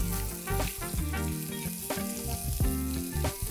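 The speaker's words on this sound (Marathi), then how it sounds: "एक मोठा कांदा किंवा 2 मध्यम आकाराचे कांदे आपण उभे चिरून घेतलेले आहेत, तेही सगळे परतून घ्यायचे." Dry coconut and vertically sliced onions sauté in a pan for an eggplant dish, giving a steady frying sizzle with occasional stirring strokes, set under background music.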